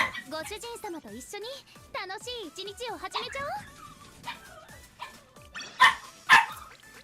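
An excited dog barking and yipping in short sharp bursts near the end, faint under a person talking excitedly close by.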